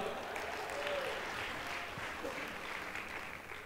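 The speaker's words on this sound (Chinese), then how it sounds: "俾掌声啊" Steady applause from an audience at a corporate closing event fills the room, a dense continuous patter of many hands at moderate distance, with faint voices underneath.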